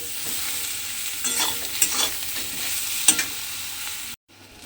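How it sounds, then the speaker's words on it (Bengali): Eggplant pieces fry in oil with turmeric and salt, a steady close sizzle broken by a few scraping stirs, before the sound cuts off abruptly near the end. "এবার এই নুন আর হলুদ গুঁড়ো দিয়ে বেগুনটাকে ভালোভাবে একটু লাল করে ভেজে নেব।"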